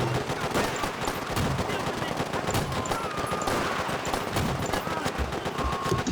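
Rapid gunfire in the video game Call of Duty, a dense continuous stream of automatic shots crackling at close range, loud and relentless throughout, with faint other game sounds underneath.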